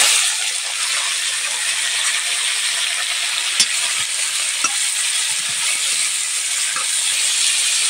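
Tomatoes hitting a hot pan of chillies in oil, a steady loud sizzle and hiss throughout with a few faint clinks of a utensil, no voices.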